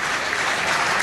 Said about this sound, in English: There's a applause from the home fans.